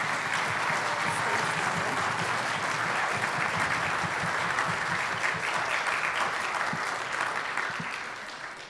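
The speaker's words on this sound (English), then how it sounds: "So give them an applause." Audience applause fills a school orchestra concert in a high school auditorium, steady dense clapping from a full crowd that holds evenly and then begins to taper off near the end.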